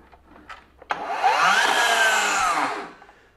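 A FLEX 24V brushless 12-inch dual bevel miter saw (FX7141) whirs up loudly and holds a rising tone, then its blade brake pulls the motor down to a quick stop, with a few small clicks beforehand.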